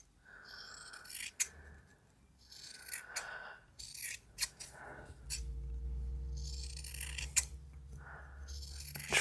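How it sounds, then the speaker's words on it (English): Scissors snip fabric around the edges of an embroidery hoop in rough, uneven cuts, close and quiet, with brief pauses, rustling and a low hum underneath. "Trimmy, trimmy, trim all the way around the edges of my hoop"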